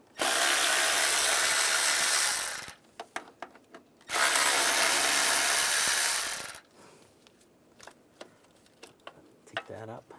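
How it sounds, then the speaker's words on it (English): A power tool, likely an impact or ratchet driving a 10 mm socket, runs out two bracket bolts during oil filter cooler housing work on a 2011-2018 Ram 1500 3.6L V6, in two loud sustained bursts followed by scattered clicks and handling noises. "use a 10 millimeter socket"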